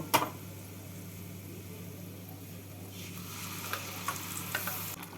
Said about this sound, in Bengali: পেঁয়াজটাকে এইভাবে লাল করে ভেজে নিলাম এবার বাটা মশলাটা দিয়ে দেব